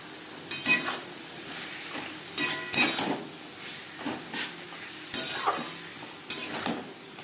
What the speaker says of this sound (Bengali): মশলার সাথে ডাটা বেশ ভালো করে মিক্সড করে দেবো